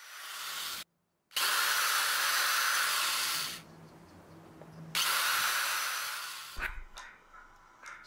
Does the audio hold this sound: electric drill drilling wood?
yes